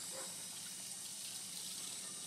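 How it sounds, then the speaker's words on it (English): Water runs steadily from a tap in an even, faint hiss that does not change, with no voices over it. "Cut the water off."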